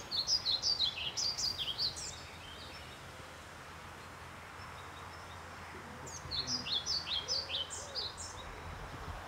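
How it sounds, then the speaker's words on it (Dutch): European pied flycatcher singing in castle gardens at Arcen, two short bursts of bright, high chirping phrases separated by a quiet gap, moderately faint over soft background rustle. "Het geluid wat je hier hoort is van de bonte vliegenvanger."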